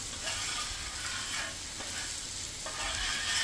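Chicken thighs sizzle steadily on a hot griddle, a continuous crackling hiss with a few short scraping strokes of a spatula across the metal surface, close and fairly loud.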